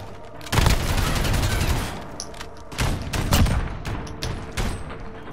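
AK-47 gunfire in Call of Duty: Modern Warfare, loud close bursts of rapid automatic shots with booming reports, a couple of longer volleys separated by brief gaps.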